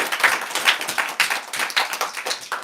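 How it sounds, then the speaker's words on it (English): Audience clapping for speakers at a Swami Vivekananda birthday celebration: a small crowd's irregular, moderately loud claps with some uneven bursts, no voices. "Let's all give them a big round of applause."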